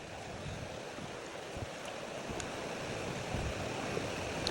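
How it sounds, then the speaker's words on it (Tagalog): Strong river current rushing near Silvermine Waterfall, a steady close, broadband roar of churning water with no break and no voices. "Lakas pa nga ng agos eh."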